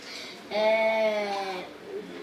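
In a blocky video game, a sheep bleats once in a sustained, wavering cry between quieter stretches, with faint room sound around it.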